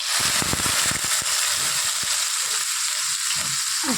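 Bitter gourd pieces frying in hot oil for a North Karnataka-style palya, a steady broadband sizzle with crackling pops, loudest early and continuing throughout without talk.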